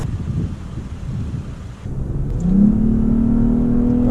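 Lexus ES350 engine, noisy rumble at first, then rising into a sustained revving drone that holds steady and loud through the end, with no talking.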